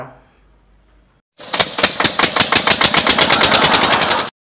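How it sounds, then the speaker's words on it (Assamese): A small engine, likely a generator, sputters to life and runs with a fast, loud, steady chugging after a brief quiet start. "একো বিচাৰি নোপোৱাত জেনেৰেটৰ কাৰ"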